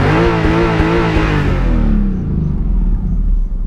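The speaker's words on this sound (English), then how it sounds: "I'll give you guys a nice little maybe a little rev for you guys" A Subaru SVX engine revs up close and loud, rising in pitch with a rough, throaty tone, then drops back to a deep, steady idle rumble.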